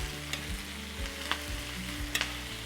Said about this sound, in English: I'm going to add all of the sausage here.